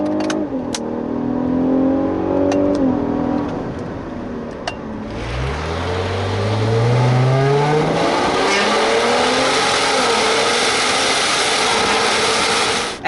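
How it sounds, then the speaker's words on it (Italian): A Cadillac CT6 twin-turbo V6 with an 8-speed automatic accelerates hard from inside the cabin, its engine note climbing through rising gear sweeps, dropping at each shift, then building again into a loud, steady roar. "adesso proviamo a fare una bella accelerazione, così cerco di farvi capire il temperamento sia di questo 6 cilindri biturbo che di questo cambio a 8 rapporti"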